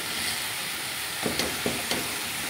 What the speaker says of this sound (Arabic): نزيد نضيف الكميه تاع الدجاج اللي راهي عندنا، نحاول نحلها هكا بالطريقه هذه ونخليها تتقلى مع البصله